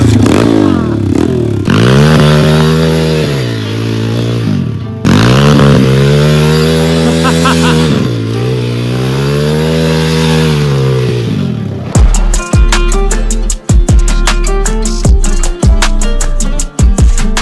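A dirt bike on a motocross track, its engine droning and revving in long rising and falling sweeps, then rattling and clattering over rough ground, loud and close throughout.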